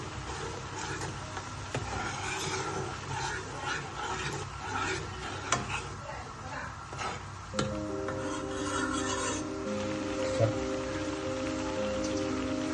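Kashmiri chili powder and pepper powder are stirred together for majboos, a close, continuous scraping and gritty rubbing that runs throughout, while a faint steady hum enters partway through.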